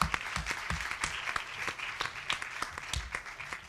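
Audience applause after a one-minute elevator pitch at a women entrepreneurs' forum, a steady patter of many hands with sharp individual claps popping out, sustained throughout.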